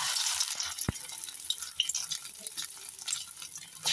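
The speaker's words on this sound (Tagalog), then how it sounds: "So, ipiprito na natin ng ating mahiwagang patola." Ridge gourd (patola) fries in hot oil, a loud, close, continuous crackling sizzle with a brief sharp tap partway through.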